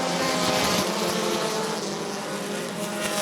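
Race cars roar at a green-flag restart at Rockford Speedway during a bracket feature, a loud continuous engine drone with a steady broadband rumble that holds without breaks.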